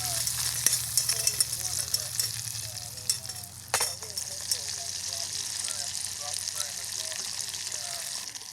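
Apple smoked sausage sizzles and crackles steadily in a pan on a Silver Fire Scout wood-burning camp stove, with one sharp clatter partway through and the frying continuing evenly throughout.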